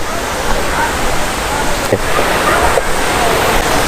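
Moti Jharna waterfall at Sahibganj roars in a dense, steady wash of rushing water, loud and constant throughout with no pauses.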